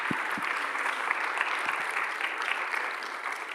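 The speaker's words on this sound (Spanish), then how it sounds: "Le vamos a dar un aplauso." Audience applause fills a room as a steady wash of many hands clapping, moderately loud and continuous, with a few low thumps near the start.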